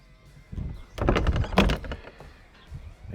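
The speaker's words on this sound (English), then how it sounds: "Make sure the door is closed." A heavy old wooden door in an abandoned country church swings shut with a solid thunk and brief rattle, loud and close, followed by quiet room tone.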